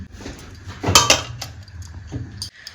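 A metal lid clanks onto a pot of cooked cabbage in a home kitchen, two close bright clinks around the middle and a softer knock later, over low background hum.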